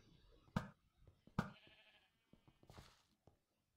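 Sheep bleating inside a Minecraft server arcade game on Epicube, two sharp bleats followed by a third softer one, faint and sparse over quiet game clicks, with no talk.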